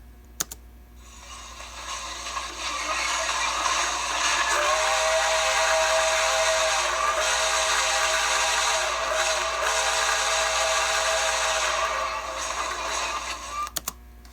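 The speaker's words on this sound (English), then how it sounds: "Now I'm going to show you the live steam whistle sound" A steady, loud toy train live steam whistle sound plays through a miniature field coil speaker for several seconds, a hissing tone with layered pitches that swells in and sustains before cutting off.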